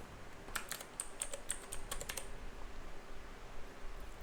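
Quick bursts of typing on a computer keyboard while entering a search in Cubase 15 music software, a short run of close, crisp key clicks over about two seconds, then quiet room tone.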